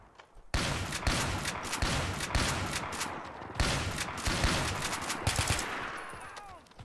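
Rapid gunfire and heavy shotgun blasts crack through a video game battle fought around a building, a dense, loud barrage of overlapping shots with brief gaps, continuing steadily throughout.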